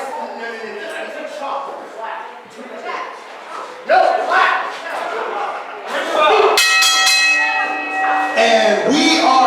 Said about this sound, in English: Bring the bell.